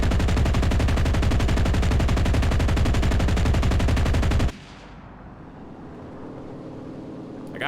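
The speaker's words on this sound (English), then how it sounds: "So we are just going to go for another strafing run." Rapid, loud automatic gunfire pours out during an aircraft strafing run in the video game Enlisted, a dense continuous burst lasting several seconds before cutting off abruptly into a low, fading engine hum.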